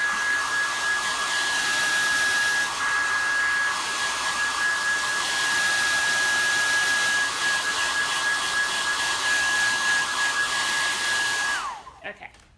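A hair dryer blows steadily and loudly on patina-painted surface, a constant whooshing drone with a steady whine that holds for about eleven seconds before switching off and winding down; no voices.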